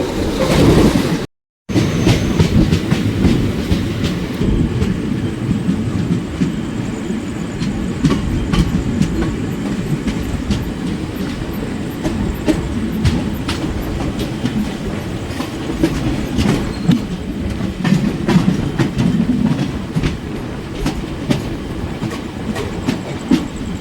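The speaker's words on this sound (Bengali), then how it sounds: "ডিজেল ইঞ্জিনে 105 করে আমাদের ট্রেন টানছে এখন।" Diesel-hauled passenger train running fast at about 105 km/h at night, with a steady, loud rumble and rhythmic clickety-clack of wheels on rail joints heard from inside the carriage throughout.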